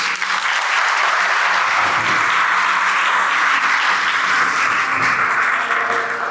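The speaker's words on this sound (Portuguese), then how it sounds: "Uma salva de palmas para vocês." Steady, dense applause from a lecture audience at a Senac talk on decision-making, sustained and even throughout with a few faint voices mixed in.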